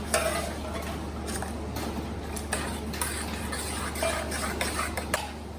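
Steady bubbling and simmering of water with ground dates in a pan, a dense crackling texture with occasional soft clinks, close and continuous without any talking.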